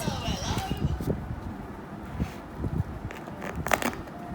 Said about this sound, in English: This is the sound of a yummy bread.